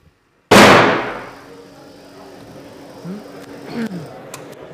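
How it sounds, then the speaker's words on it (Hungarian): A membrane bursts under gas pressure in a science experiment, giving one sudden, very loud bang that rings and fades. Quieter clanks and rustles follow in the room. "Hát azt hiszem, hogy ez nem kis durranás volt."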